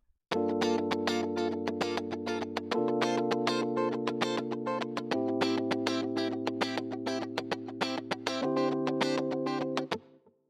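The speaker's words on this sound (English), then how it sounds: "This makes it easy to get that classic funk guitar sound." A funky electric guitar riff with steady chopped strumming and shifting chord changes, colored by distortion and chorus-like effects, playing alone and loud.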